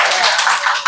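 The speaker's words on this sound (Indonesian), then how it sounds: "Tepuk tangan lagi." A classroom of students clapping hands for a good answer during a teaching practice lesson, a short burst of dense applause.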